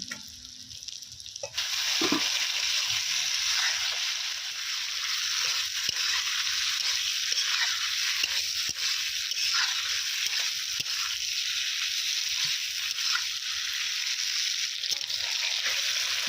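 Potatoes and cauliflower stirred into sizzling masala in a pan, a steady loud frying hiss with scraping stirs throughout, cooked outdoors at night in a village.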